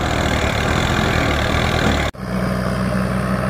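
A tractor engine runs steadily at a low, heavy throb while straining to pull a stuck tractor with a failed tyre out of a rice-planting field, loud and close with a brief cut partway through, no talking.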